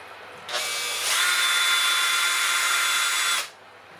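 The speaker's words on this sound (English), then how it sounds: "why have I never cut the end off and put it in a drill until today?" A power drill spinning a cut-off mash paddle while brewing beer whirs up in two steps, holds a steady high whine for about three seconds, then stops abruptly.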